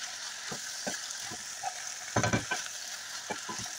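Ground beef seasoned with cumin, paprika, salt, recado and mustard sautés in a pan, a steady soft sizzle under repeated scraping stirs of a spoon, with a brief louder clatter of stirring midway; no talking.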